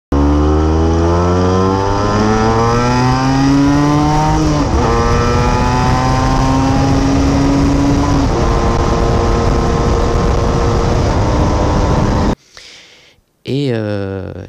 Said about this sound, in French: une NSR 125, dont voici une vidéo où je la conduis